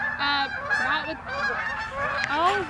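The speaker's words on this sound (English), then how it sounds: "There go all the geese." Geese honk repeatedly at a horse-riding yard, a close, continuous overlapping chorus of nasal calls with several birds sounding at once.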